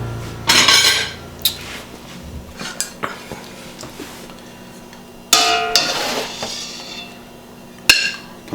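Cooked pasta is plated with metal utensils against dishes and pans, giving scattered clinks, scrapes and sharp taps at close range, with two louder clatters and quieter handling between them.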